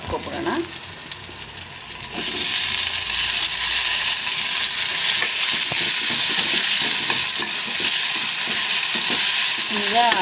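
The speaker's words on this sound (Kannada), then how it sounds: "ಟೊಮೆಟೊನು ಮತ್ತು ಬದನೆಕಾಯಿ ಒಂದು ಒಂದು ಎರಡು ಮೂರು ನಿಮಿಷ ಬೇಯಿಸ್ಕೊಂಬಿಡೋಣ" Eggplant and tomato frying in oil in a pan while being stirred, a steady loud sizzle that jumps up after the first two seconds and carries on with scraping stir strokes throughout.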